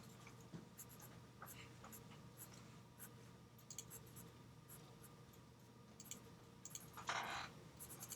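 A graphite pencil scratches across paper in short, quiet strokes, soft and close with faint room hiss, while a drawing of a 9 volt battery is shaded with a heavier line.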